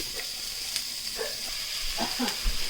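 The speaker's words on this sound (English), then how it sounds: "the onions are cooking in there" Chopped onion cooks in a pan for birria tacos, giving a low, steady sizzle with a faint hiss throughout and a few soft stirring scrapes and clinks, with no talking.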